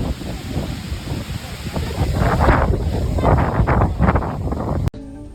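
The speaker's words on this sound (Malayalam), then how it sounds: "നമ്മൾ ഒരു രക്ഷയില്ലാത്ത കാറ്റ്, അങ്ങനെയാണത് പറയണ്ടേ. കാറ്റിൻ്റെ ഫീൽ ഒന്ന് വേറെയാണ് അവിടുത്തെ." Strong wind at Thirumalai Kumaraswamy hilltop temple buffets the microphone in a loud, continuous roaring rush with gusty swells, then cuts off abruptly near the end.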